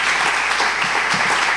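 A church congregation claps during a sermon, dense and steady applause from many hands filling the space, loud and close, with no voice over it.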